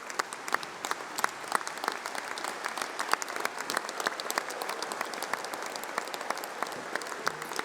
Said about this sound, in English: please stand up as we give you a round of applause